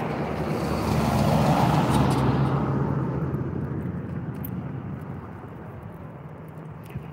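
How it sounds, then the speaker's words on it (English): Night street traffic: a vehicle swells past at close range, then engine and tire noise fades into a softer background rumble, with no voices. "there's a lot of traffic tonight"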